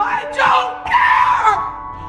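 A woman screams in two long, loud, strained bursts, a short dip between them, during a tense scene in the science-fiction film Passengers.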